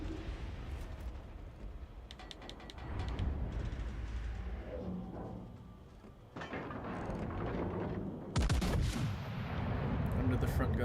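Warship guns fire shells in World of Warships: Legends, heavy booming salvos rolling through the clip with a loud burst near the end, over steady engine and water rumble.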